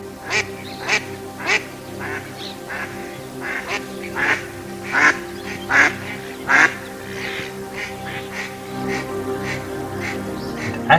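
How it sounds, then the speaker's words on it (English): An Indian spot-billed duck at a lake calls in a series of about a dozen harsh, evenly spaced quacks, fairly close, over a steady background hum. "Indian spot-billed duck."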